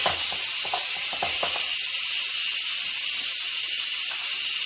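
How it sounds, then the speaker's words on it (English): Steady, loud broadband hiss of steam venting from a pressure cooker valve pushed open with a wooden spoon, with a few brief knocks and clicks at the start before it settles into a continuous rush. "As far as releasing the steam, we can hopefully demonstrate that now"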